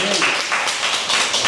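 A church congregation claps together during a revival service, brief rhythmic applause close and fairly loud, with voices mixed in.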